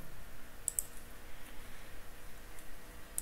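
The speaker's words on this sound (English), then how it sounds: "Right click on the index, add view" Faint, sparse clicks of a computer mouse, a couple of quick double clicks near the start and another pair at the end over quiet room hiss.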